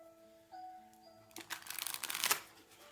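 Tarot cards being shuffled by hand, a quick burst of riffling and flicking that builds over about a second and a half, close and fairly soft after a quiet start with faint tonal background hum.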